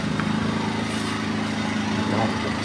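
A Toyohama inverter portable generator running close by, a steady droning engine hum with a harmonic buzz, constant in level and with no talk.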